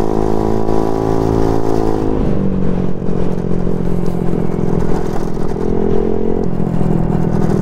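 Honda Ruckus scooter engine droning steadily while riding, with a pitch drop around two seconds as the throttle eases, then a sustained hum with wind and road clatter, close and loud throughout.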